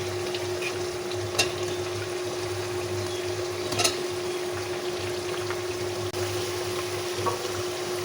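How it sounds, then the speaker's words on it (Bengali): A pan of sea bata fish curry with eggplant simmers and bubbles in a steady, even hiss, with a few faint knocks from stirring scattered over the continuous sound. "একটু সামান্য করে নাড়াচাড়া করে দিচ্ছি, নিচের দিকে যেন লেগে না যায়। একটা বেগুন দিয়ে দিচ্ছি।"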